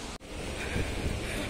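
Mountain river flowing at the foot of a steep cliff in forest, a steady broadband rushing wash heard from a distance, briefly dipping near the start, with no talk over it.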